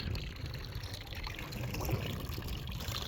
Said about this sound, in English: this flowing water should keep everything open